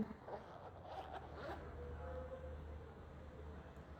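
A first aid kit's zipper is pulled open in a few quick, scratchy strokes near the start, followed by faint handling noise in a quiet room.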